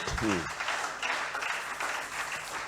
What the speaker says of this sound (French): On applaudit la parole du Seigneur.